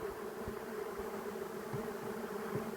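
Honey bees buzzing at an opened hive during queen rearing, a steady, dense drone of many insects close by, continuous and even with no voices.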